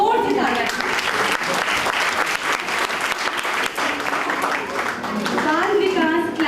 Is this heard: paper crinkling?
no